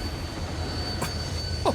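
A train rolls by with heavy rumble and a steady high wheel squeal throughout, loud and continuous, in a 1984 film scene, with a short vocal sound near the end.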